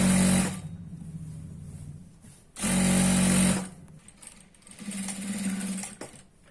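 Sewing machine stitching churidar pants, with loud whirring bursts of stitching separated by pauses and quieter runs, close up and without talk.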